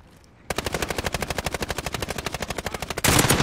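Rapid automatic gunfire rattles in a steady burst of evenly spaced shots during a Call of Duty Warzone match, loud and close, with helicopter rotor noise swelling in at the end; no voices.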